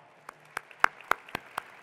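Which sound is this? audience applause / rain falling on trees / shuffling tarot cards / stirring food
audience applause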